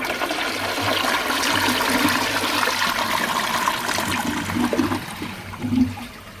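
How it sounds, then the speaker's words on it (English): A rare 1957 blue Universal Rundle toilet flushes with balls in the bowl, a close, short rush of water that swirls and gurgles, then trails off into trickling as the tank refills. "Let's give it a flush."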